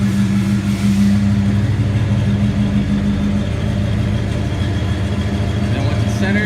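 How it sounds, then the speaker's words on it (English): A car's engine runs steadily with a loud, close hum as it rolls into position on a Mustang chassis dyno, holding an even drone throughout. "Then you roll it to get it centered on the dyno"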